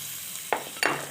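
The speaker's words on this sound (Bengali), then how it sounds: "নাড়াচাড়ার পর ভেজে রাখা চিংড়িটা দিয়ে দিচ্ছি, আর তার সঙ্গে দিয়ে দিচ্ছি কড়াইশুঁটি।" A pan of fried prawns and green peas sizzling over low background hiss, with two short bursts as ingredients drop in and a spatula stirs, close and fairly quiet.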